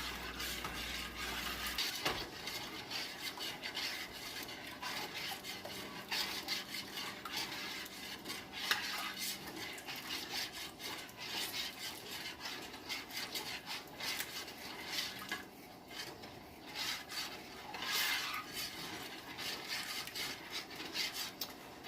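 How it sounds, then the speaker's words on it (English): A spoon stirs strawberry pie filling as it thickens in a pot for canning, producing a long, continuous rubbing and scraping against the pot bottom with occasional soft bubbling, quiet and steady. "You have to stir just constantly to keep it from sticking on the bottom."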